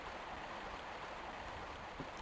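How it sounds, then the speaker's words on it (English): Rapidly flowing water rushes through a cave in the Tomb Raider video game, a faint, steady watery wash with no breaks. "There's this rapidly flowing water, and I'll show you where that takes us."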